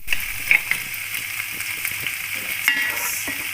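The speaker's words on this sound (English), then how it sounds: "let me just throw in my paneer pieces into the white sauce there" Paneer pieces cook in a pan of white sauce, a steady close sizzle with intermittent scraping and clinking of a spoon stirring, no talking.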